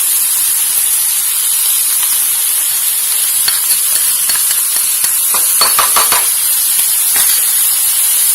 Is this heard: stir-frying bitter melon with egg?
yes